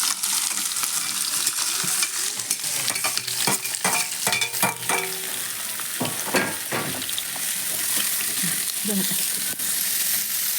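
Fenugreek seeds fry in a curry pan for a village-style taro pakoda curry, a loud, continuous sizzle broken by clattering stirring scrapes, with no talking.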